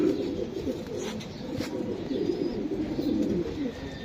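Two racing pigeons cooing close by, soft repeated throaty coos rolling on without pause at a steady moderate level.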